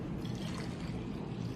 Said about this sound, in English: to fill the water inside of humidifier bottle